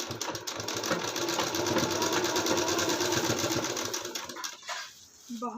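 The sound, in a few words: sewing machine stitching embroidered blouse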